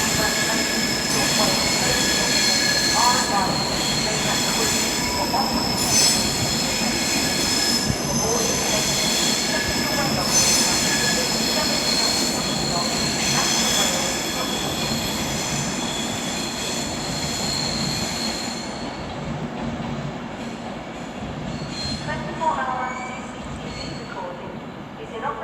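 Avanti West Coast Class 390 Pendolino electric train departing London Euston for Glasgow Central, a long, loud, sustained wheel squeal with steady rolling noise as it pulls out, fading slightly toward the end.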